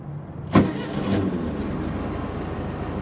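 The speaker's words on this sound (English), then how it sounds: "One thing that's crazy about mechanical cars opposed to modern electronic cars is how quickly they start when they're warmed up." A warm, air-cooled Volkswagen Beetle engine cranks briefly and catches almost instantly, then settles into a steady idle nearby, with no voices.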